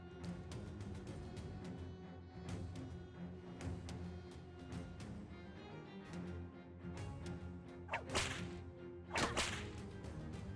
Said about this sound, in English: That whip is really not doing any damage.